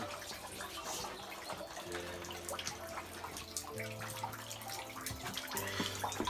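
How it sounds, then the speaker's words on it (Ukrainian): Water running and splashing into a container at a small spring well beside a river, a continuous trickling pour with faint drips and occasional low hums in the background, fairly quiet and with no talk. "В цій криничці біля річки дуже смачна вода, тому вирішуємо затаритись нею"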